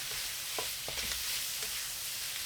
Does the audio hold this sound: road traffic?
no